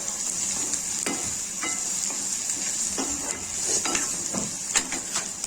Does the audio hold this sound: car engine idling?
no